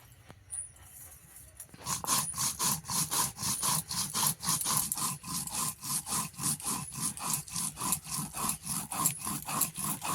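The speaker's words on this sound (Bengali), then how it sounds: "জিরেটা বেটে নেবো" Cumin seeds ground on a grinding stone, the stone rolled back and forth in a steady rhythmic scrape, loud and close, starting after a brief quiet moment and continuing evenly throughout.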